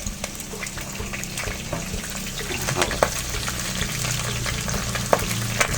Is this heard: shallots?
yes